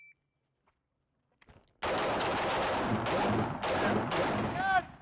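Rapid gunfire during a timed shooting drill with a gas mask, loud sharp bursts of shots starting after a near-silent pause and continuing in clustered volleys, with a few faint electronic beeps at the end.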